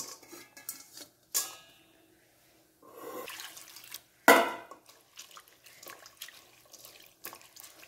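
Anchovies being rinsed under running tap water in a home kitchen, with splashing water, the clatter of bowls and utensils and a sharp clank, all close and with no talking.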